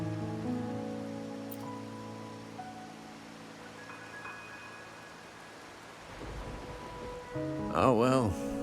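Steady rain hiss in the video game Wuthering Waves under a soft musical backdrop, continuous and moderate, ending with a louder warbling tonal sound.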